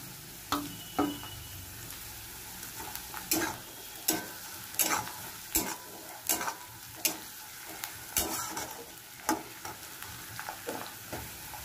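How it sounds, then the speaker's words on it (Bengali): Chopped onion and green chili frying in a pan, a soft steady sizzle under frequent sharp spatula scrapes and taps against the pan, fairly quiet and close. "পেঁয়াজটা একটু ভাজবো, বেশি ভাজবো না, অল্পই ভাজবো"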